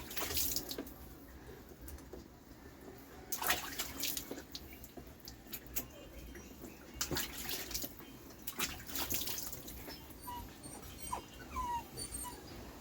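Water runs and splashes steadily while shampoo is rinsed off pets during a bath, with drips and sloshing throughout and occasional louder splashes. No one speaks.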